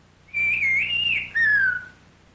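A single clear whistle glides up and down in pitch over two phrases, like a whistled word, loud and close against a quiet background.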